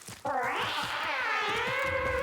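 A Kavat, the feline creature of Warframe on the Plains of Eidolon, gives one long drawn-out meow that rises and falls, loud and close, running steadily for about two seconds with no talk over it.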